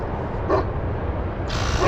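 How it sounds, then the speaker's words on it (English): Dog barking outdoors beside a mini trike, a couple of short yips over a steady background rumble. "And there's a dog barking at me."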